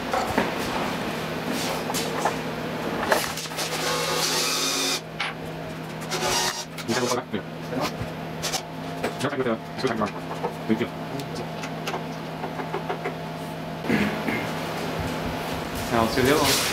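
A 1.5-inch screw is driven into a cross dowel on a CNC machine gantry, with irregular rubbing, scraping and clicking from a screwdriver and a steady background hum.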